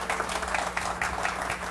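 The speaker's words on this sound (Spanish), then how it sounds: "Un aplauso, señores" Audience applause at a Spanish-language interview show, a short, steady wash of clapping from a crowd, moderately loud throughout.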